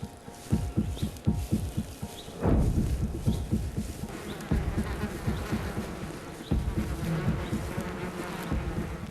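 Bumblebees buzz steadily near a wild nest, a continuous droning hum with small swells and dips in loudness, heard alone without any voices.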